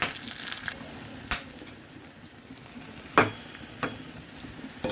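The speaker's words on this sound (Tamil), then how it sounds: "இப்போ வதக்கிக்கலாம்." Dried curry leaves sautéing in a pan give a quiet, steady frying hiss, with a few sharp scrapes and clacks of a stirring utensil at irregular intervals and no voices.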